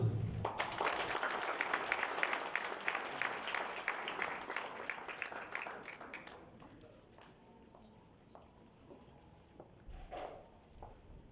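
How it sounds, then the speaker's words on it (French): An audience applauds at an art exhibition opening ceremony in an arts centre, a dense burst of many hands clapping that gradually thins and fades over several seconds, leaving scattered claps and room noise. "Et je vous demande de bien les applaudir."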